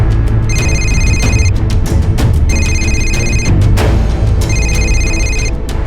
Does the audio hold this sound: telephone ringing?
yes